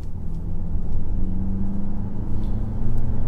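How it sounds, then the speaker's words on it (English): A BMW X1 xDrive23i accelerates from inside the cabin, a low steady engine rumble rising and easing as it shifts smoothly up a gear, with faint road noise beneath. "Good turn of pace, good acceleration, nice smooth change up a gear."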